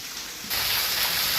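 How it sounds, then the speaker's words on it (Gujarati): Steady rain falls outside a home, a soft broadband hiss that jumps louder about halfway through and then holds as a continuous wash, with no talking. "બહાર વરસાદ આવે છે"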